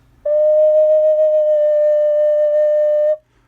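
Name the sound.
flute playing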